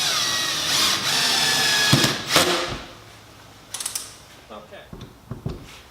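Fasteners on an RV taillight being tightened with a ratchet, close and fairly loud: a steady clicking whir for the first two seconds, then short bursts of ratcheting clicks and handling knocks, no speech.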